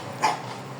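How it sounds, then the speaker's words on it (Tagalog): A single short dog bark, fairly faint and a little distant, against quiet background noise. "Aso."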